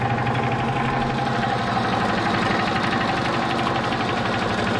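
A Ford F-150 engine with about 100,000 miles idles steadily up close, giving a continuous even rumble with a faint rhythmic ticking throughout.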